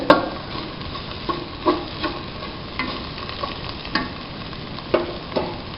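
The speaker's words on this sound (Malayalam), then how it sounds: "നമ്മൾ മൂപ്പിച്ചെടുത്ത നാളികേരക്കൊത്ത്, ഫ്ലെയിം കൂട്ടി വയ്ക്കുക. നന്നായി ഒന്ന് ഇളക്കി ചേർത്ത്" Roasted coconut pieces for a squid roast are stirred in a pan over high flame, making a steady sizzle broken by several sharp scrapes and clacks of the spoon, close by and with no speech.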